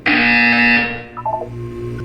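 A loud electronic buzzer in the video game Portal 2 sounds once for about three quarters of a second, a harsh sustained tone that cuts off sharply, followed by brief quieter game tones and a low hum.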